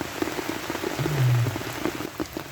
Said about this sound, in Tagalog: Muulan